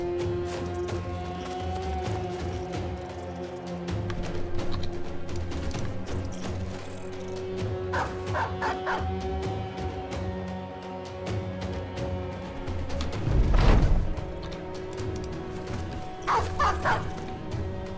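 Dog barking inside a battle-focused video game, sharp bow-wow yips popping up intermittently over a dense, busy game soundtrack, mostly mid-level with one louder burst near the end.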